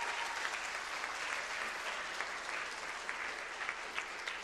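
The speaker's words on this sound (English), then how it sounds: "Could I just ask everyone to give a round of applause for all our honoured guests" Dense, steady round of applause from a large audience at a journalism writing conference, a continuous wash of many hands clapping at even volume throughout, with no speech over it.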